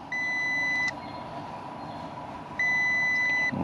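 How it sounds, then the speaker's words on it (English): A multimeter continuity tester beeps during an HVAC compressor check, giving two sustained high tones each just under a second long, separated by a pause over a low background hum. "Now we should get a beep."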